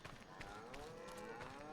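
Cattle mooing in the Farming Simulator 25 video game on a dairy farm, several long, drawn-out lowing calls overlapping at a steady moderate level with no talk.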